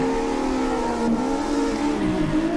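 A car engine in an online drifting video game drones steadily, its pitch sliding up and down as if revving through turns, close and continuous without talk.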